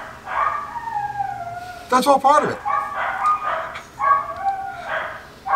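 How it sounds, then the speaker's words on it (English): Several of four household dogs howling and barking together in a long, wavering chorus, with a burst of sharper barks midway, heard under a man's speech. "The dogs are going nuts, aren't they?"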